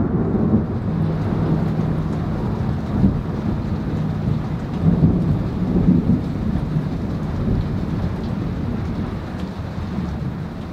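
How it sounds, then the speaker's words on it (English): Steady heavy rain with rolling thunder outside a home workshop, a dense continuous hiss with low rumbles swelling around the middle, loud and close, no voices. "I caught a really cool sound and clap of thunder"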